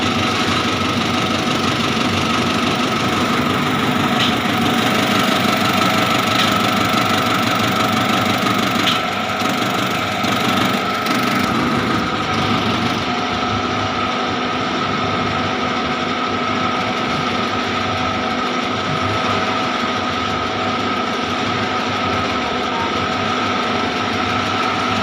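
Russian diesel tractor running steadily, a loud continuous rattling, knocking engine drone close by that holds for the full length, with a slight change in tone midway and no speech.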